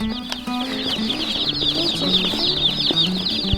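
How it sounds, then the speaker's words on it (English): Newly arrived baby chicks peep constantly, a dense chorus of high, rapid cheeps from a group close by, with low indistinct voices murmuring underneath. "You ready to see some chicks?"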